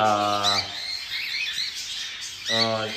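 Pet lovebirds in a flight cage give sharp, harsh squawks at the start and end of a short burst, with chattering calls in between.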